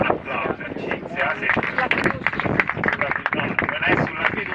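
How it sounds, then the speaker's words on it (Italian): Audience applause for Cinzia Simoni at the Casa Livorno presentation, a dense, continuous patter of many hands clapping at close range, mixed with crowd noise and some voices throughout. "io gli farei un applauso a Cinzia"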